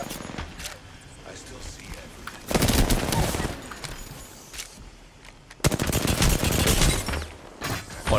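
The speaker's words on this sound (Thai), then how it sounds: "โหแล้วฝั่งนู้นยิงแรงกันนะ" Heavy automatic gunfire from the enemy team in the Apex Legends battle royale game comes in two long, dense bursts separated by quieter stretches, with voices in the background.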